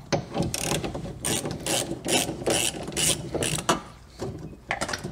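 A hand ratchet loosens the bolts on a power window regulator, giving rapid repeated clicking bursts close up, each stroke a crisp rattle of the pawl, continuing in an uneven rhythm with brief pauses.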